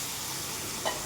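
Bay leaves, cumin, ginger, onion and garlic fry together in a pan in a Bengali kalna fish recipe, giving a steady soft sizzle with a brief stir near the end, heard alone.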